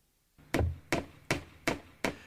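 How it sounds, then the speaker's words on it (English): Five sharp hammer blows fall at an even pace, driving 8-penny galvanized finish nails into a new painted wooden riser board. The strikes are close and distinct, each ringing briefly. "Fasten the riser in place with 8-penny galvanized finish nails."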